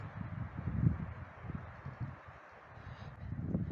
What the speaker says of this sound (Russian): Но ветер какой-то не сильный, какой-то успокаивающий